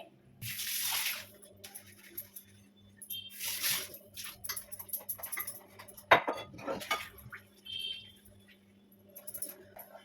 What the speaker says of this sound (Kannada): ಪಾತ್ರೆಗಳೆಲ್ಲ ಏನೇನಿದೆ ವಿಡಿಯೋಗೆ ಯೂಸ್ ಮಾಡಿದಂಥದ್ದು ಪ್ರತಿಯೊಂದು ಇವಾಗ ವಾಶ್ ಮಾಡ್ಕೊಂಡ್ಬಿಡ್ತೀನಿ